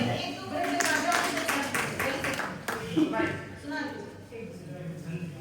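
Audience at a Hindi poetry gathering clapping in a brief burst, sharp claps close together in the opening seconds, then trailing off into talk and room murmur.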